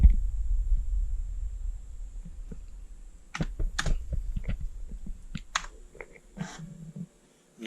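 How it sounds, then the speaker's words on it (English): Commodore 128D internal disk drive running noisily, with a steady low hum and irregular mechanical clicks and clunks from the drive head, close and fairly loud, stopping near the end. "The drive is very noisy"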